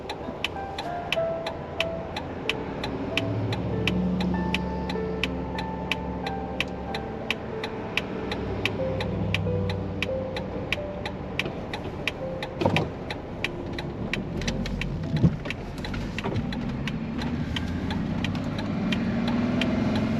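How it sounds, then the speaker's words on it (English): Summer RV traffic passes along a road in Denali National Park, Alaska, heard from inside a moving Jeep as a continuous engine and road hum, with a steady ticking turn signal and a couple of louder swells as vehicles go by. "Summer RV traffic."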